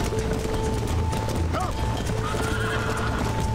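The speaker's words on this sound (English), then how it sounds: "Let me just bring my horse to a halt here." Horse hooves clip-clopping steadily and slowing to a halt in the Red Dead Redemption video game, with a neigh partway through, heard against a busy background hum and no talk.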